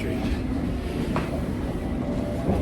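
A London train heads toward Baker Street, heard from inside the carriage: a loud, continuous low rumble and roar of wheels on rails with faint clicks, steady and close.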